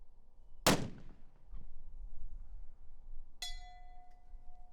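A long-range rifle fires one sharp, loud shot that decays with rumble, followed a few seconds later by a faint ringing ping of the bullet hitting a distant steel target, which lingers as a sustained tone.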